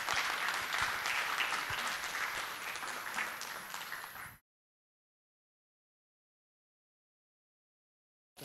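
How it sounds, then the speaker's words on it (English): An auditorium audience applauds Professor David Gann as he comes to the stage for a fusion energy discussion. Steady, full clapping lasts about four seconds, then cuts abruptly to silence. "Please give a round of applause for Professor David Gann"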